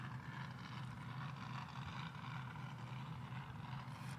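A drag boat engine runs at the Diamond Drag Boat Nationals at Lucas Oil Speedway, a steady, distant rumbling drone that holds the same level for several seconds, with no talk.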